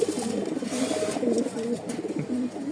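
Pigeons coo repeatedly inside a cage, close by: low, rolling, overlapping calls continue without a break, and no one speaks.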